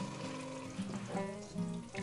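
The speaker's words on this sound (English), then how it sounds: "I'm going to add 1 cup of apple cider vinegar." Apple cider vinegar being poured into homemade BBQ sauce with huckleberries and whiskey, making a short liquid splashing and gurgling stream, close and fairly quiet.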